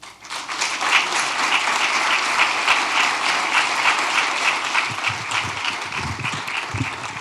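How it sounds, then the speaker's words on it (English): A breakfast event audience gives loud, continuous applause, a thick even wash of clapping that holds steady, then some low thumps and murmurs come in near the end. "Would you please give a big round of applause for Kathleen?"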